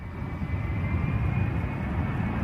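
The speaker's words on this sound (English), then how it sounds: "An F-35B attempting a vertical landing bounced, pitched forward, and the pilot executed a low-altitude ejection" An F-35B jet roars steadily during an attempted vertical landing, a dense, loud engine rumble with a faint high whine and no voices.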